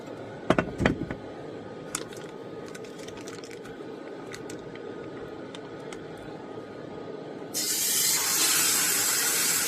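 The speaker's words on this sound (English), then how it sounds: "I'm going to spray my pan with some olive oil." Scattered clicks and taps lead into a sudden, sustained spray hiss of olive oil onto a hot pan close by that continues steadily to the end.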